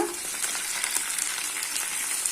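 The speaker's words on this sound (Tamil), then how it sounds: "இப்போது வெங்காயம் பாருங்கள் ஓரளவுக்கு வதங்கிடுச்சு நான் இப்போ இதெல்லாம் கொஞ்சமாக கருவேப்பிலை சேர்த்துட்றேன்" Onions and a few curry leaves fry in a pan for a tomato and chana dal kootu. A continuous close sizzle carries light popping, with no talking.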